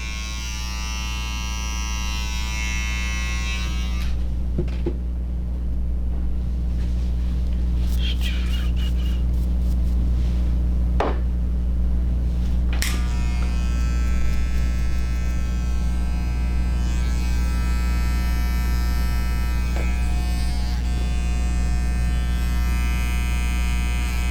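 Electric hair clippers buzz steadily and close while fading hair clip over comb, a constant mains-like hum with brief scraping clicks as the blade works through the hair.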